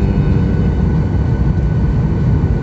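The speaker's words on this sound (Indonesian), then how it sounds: "pesawat sudah mulai merendah mendekati landasan" A passenger airliner descends toward the runway on its approach into Jakarta's Soekarno-Hatta airport, heard from inside the cabin as a steady, loud, low engine and airflow roar with no breaks.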